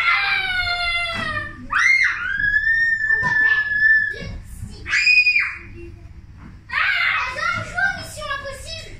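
Children scream and shriek loudly in repeated high-pitched, wavering bursts, close by, with short pauses between outbursts during a family outing.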